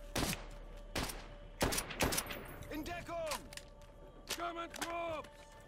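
Bursts of gunfire from Call of Duty: World at War ring out in short volleys, several sharp shots clustered early on, then scattered pops mixed with other game noises and faint tonal effects.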